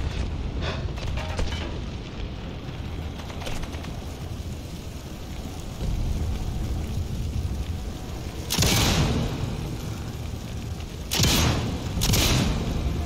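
Muffled booms from a submarine being blown up in the video game Sniper Elite 5, a sustained rumbling roar followed by several loud, abrupt blasts near the end.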